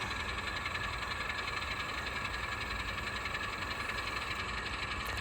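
An Alco switcher locomotive idles at an industrial siding, its diesel engine giving a steady, loud, throbbing drone with a knocking pulse that runs unbroken and without speech.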